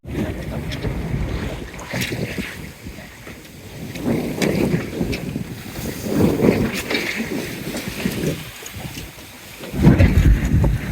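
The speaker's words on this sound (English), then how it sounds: "very confused seas here, bouncing back off the cliffs, I guess" A sailboat rides big, confused swells rebounding off cliffs in the rain off the New South Wales coast, with loud rushing wind and water slapping and surging against the hull in uneven gusts close by.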